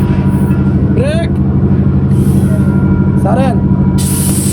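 Short bursts of hissing air escape from a loosened brake bleeder nipple on a Liugong payloader, repeating against a constant loud engine drone while people call out.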